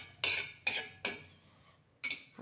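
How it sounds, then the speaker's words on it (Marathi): A spoon scrapes browned, fried onion out of a metal pan into a dish while cooking shev bhaji: four short, close metallic scrapes and clinks with pauses between. "आपण आता हा एका डिशमध्ये काढून घेऊ."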